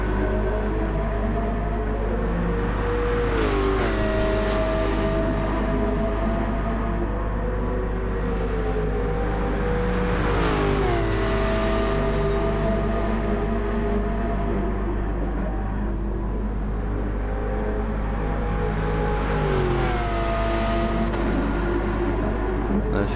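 Race cars run on a wet track in a racing video game, with steady, loud engine whine that rises and falls through gear shifts and throttle changes for the whole stretch.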